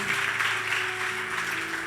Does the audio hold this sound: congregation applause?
yes